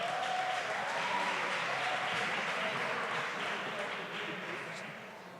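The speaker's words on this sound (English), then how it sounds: "Let's clap for them." An awards-ceremony audience claps for sports award coordinators, a broad steady wash of applause that slowly fades toward the end.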